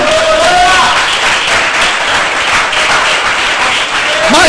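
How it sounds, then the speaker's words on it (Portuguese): Church congregation at a Sunday worship service applauding loudly and steadily throughout, a dense wash of clapping with faint voices and a brief musical tone mixed in. "Aplauda bem forte ao Rei"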